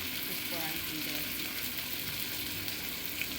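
Chopped tomato hits a pan of fried onions and sizzles with a steady loud hiss and occasional stirring, close up, with faint voice in the background.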